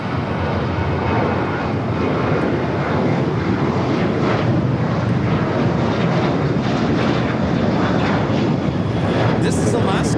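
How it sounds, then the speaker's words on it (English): An Alaska Airlines Boeing 737-800 takes off from LAX bound for Seattle, its jet engines a loud, sustained, powerful roar that holds strong for ten seconds, with people talking faintly beneath it. "This is Alaska Airlines 1317 taking off to Seattle on the 737-800."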